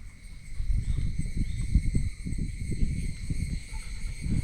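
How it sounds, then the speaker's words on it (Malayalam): Crickets chirp in a quiet rubber estate, a steady high-pitched layered trill droning alone over faint low background rumble. "ചീവീട് മാത്രമേ ഉള്ളതേ"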